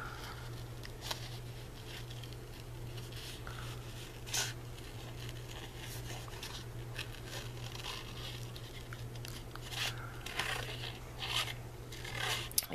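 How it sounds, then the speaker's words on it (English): Scissors fussy-cut a paper butterfly from a printed craft sheet, giving soft, irregular snips and paper rustles close by over a steady low hum, with no talking. "I'm gonna go ahead and fussy cut this one out."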